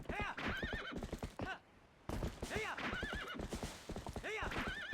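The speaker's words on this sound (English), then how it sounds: "I was using the horse to clip through a gate" Horse in Twilight Princess HD galloping with rhythmic clip-clop hoofbeats and repeated loud whinnies, with a short pause partway through.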